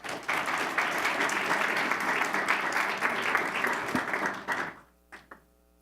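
Applause at a school board meeting for Parkland Middle School TSA state winners, a room of steady dense clapping that holds for several seconds, then cuts off, leaving a couple of brief knocks and quiet.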